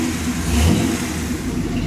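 A 1966 Chevy truck engine revs hard in a short, loud burst, its throaty mid-range roar rising briefly then holding, close by with no talking.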